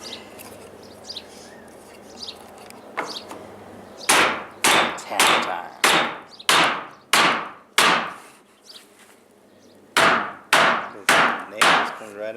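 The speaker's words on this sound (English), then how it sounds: "don't stand under the door when he's knocking the door trim off" A hammer strikes door trim on a tiny house build, first a few light taps, then a run of loud, sharp, evenly spaced blows, a pause, and three more heavy knocks.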